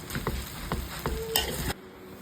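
Food being stirred in a sizzling frying pan, with a few scraping strokes of a utensil against the pan over a steady crackle of oil, stopping abruptly near the end.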